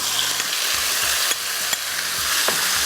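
Beef sizzles loudly in a pan over high heat, a steady close hiss of frying broken by a few sharp clicks and scrapes as the meat is moved and spread out.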